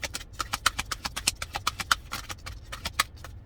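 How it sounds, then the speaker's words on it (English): A deck of stiff cards is riffled and shuffled in a rapid, close run of crisp flutters and snaps, with short bursts following one another quickly. "Sorry, these cards are like hard to shuffle."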